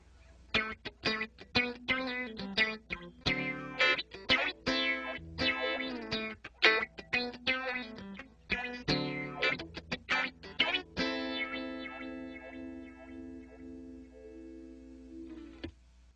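A guitar plays picked notes and chords through an Electro-Harmonix Stereo Polyphase phaser swept slowly by an expression pedal, ending on a long sustained chord that rings out.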